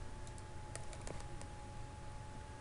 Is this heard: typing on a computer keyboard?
yes